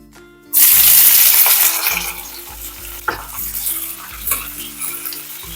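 Cumin and mustard seeds hit hot oil in a pan with a sudden loud sizzle that settles into steady frying crackle, broken by a few sharp stirring clinks.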